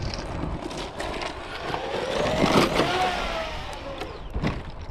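A Traxxas Maxx Slash RC short course truck runs with a whirring electric motor that rises and falls, alongside scattered knocks and outdoor rustle.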